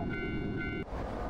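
A train sits waiting before departure, giving off a steady low rumble with a sustained tonal hum or whistle in the upper range for the first part, which cuts off abruptly near the end, leaving the rumble.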